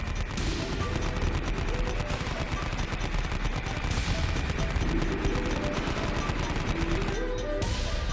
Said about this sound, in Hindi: आतंकवादी ने ऋषभ के पिता और विनीत के पिता को गोलियों से भून दिया।